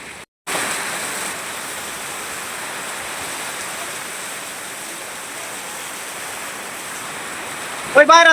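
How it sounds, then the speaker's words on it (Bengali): Rainwater in a village rushes down like a small waterfall, a steady roaring wash of water close by after a brief cut at the start, with a sharp clatter near the end. "আর এইখান দিয়ে মনে হয় একটা ঝর্ণা।"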